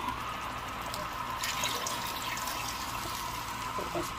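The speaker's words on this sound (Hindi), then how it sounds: "बस इसके अंदर पानी शामिल करेंगे 2 गिलास" Water is poured from a glass into a cooking pot, giving a steady close splashing pour that fills the short stretch with gentle liquid gurgle.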